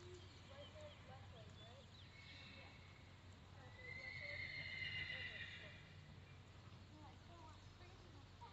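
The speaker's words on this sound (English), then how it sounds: "You want to walk your horses back to a walk" Horses at a trail class show, a whinny rising clearly at mid-clip over faint hoof clip-clops and quiet arena ambience, all fairly distant and soft.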